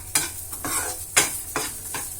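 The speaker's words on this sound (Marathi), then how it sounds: "ते मीठ देखील आपल्याला यात टाकून छानपैकी हलवून घ्यायचं आहे" Salt stirred into cashew pieces frying in a pan for a sweet fasting-day shira, with a spoon scraping in several rhythmic strokes over a steady close sizzle.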